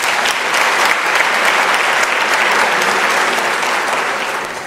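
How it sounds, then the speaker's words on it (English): Audience applause at a school ceremony marking the first Masters and Doctoral student intake, a steady dense wash of clapping from many hands that holds throughout and tapers slightly at the end. "I think it deserves a round of applause."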